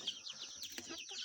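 Chickens and young poultry chicks on a farm cluck and chirp in a brief, continuous flurry of overlapping calls.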